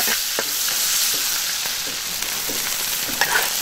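Stir-frying in a wok over high fire, garlic scapes with shredded pork: a constant hissing sizzle with occasional scraping and tossing clicks, close and with no talk.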